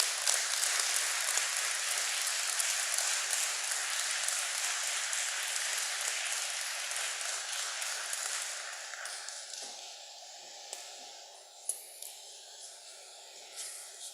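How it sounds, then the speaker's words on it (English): Audience at a mayor's town hall meeting applauds first responders, a broad hiss of clapping that is fairly quiet and thins out toward the end, leaving a few scattered claps. "So let's give them a round of applause"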